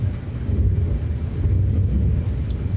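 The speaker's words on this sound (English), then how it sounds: "we're just seeing lightning right now, and the rain just started, and I heard a little bit of rumbling" Low, distant thunder rumbles through a thunderstorm as rain begins, a soft continuous grumble with wind-like noise, no voices.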